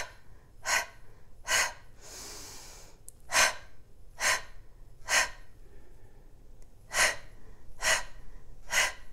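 A person exhales forcefully during an exercise routine, pumping the breath out in about nine sharp, evenly rhythmic puffs, with one longer breath partway through, close and clear without speech.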